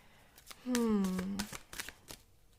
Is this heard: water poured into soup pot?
no